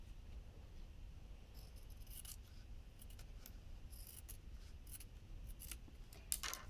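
Scissors cutting through a fabric pattern piece for a dress, a run of faint, crisp snips and slides at an uneven pace, close and quiet over a low background hum.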